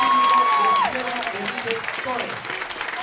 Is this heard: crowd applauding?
yes